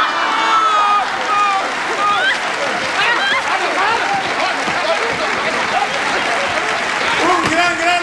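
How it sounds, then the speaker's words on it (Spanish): Studio audience applause on the Sábado Gigante television show, loud and sustained clapping filling the room while voices and shouts rise over it. "Fuerte el aplauso para todos nuestros actores"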